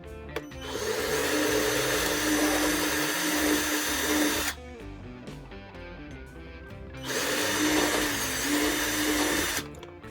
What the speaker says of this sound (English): Doing those starter holes makes all the difference when doing these, because you don't have the bits slipping around. It just goes straight in.